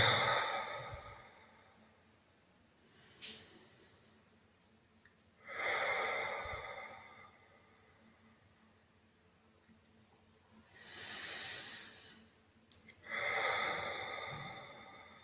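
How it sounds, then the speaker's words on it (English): Slow, deep breaths during a guided meditation, several long airy inhales and exhales spaced a few seconds apart, close and soft with quiet gaps between. "we will take three deep breaths"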